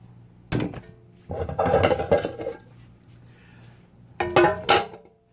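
Clattering metal pots and pans being moved and set down, in a few separate bursts of clanks with quiet pauses between.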